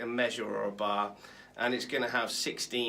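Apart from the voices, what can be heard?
No distinct noise like a dog, phone or traffic.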